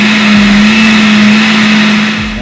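A kitchen blender whirs steadily through a batch of authentic Mexican salsa roja with tomatoes and cilantro, a loud continuous motor hum with a strong steady drone and no pauses.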